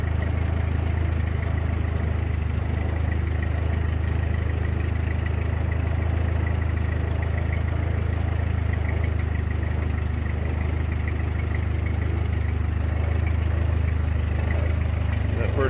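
A car engine idles steadily at close range, a continuous low rumble that never revs and holds the same level from start to finish.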